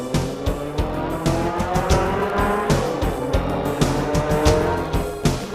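Dale Earnhardt's race car at qualifying, a continuous loud engine roar with rapid pulsing surges and hints of tire squeal, dense and close throughout with no talk.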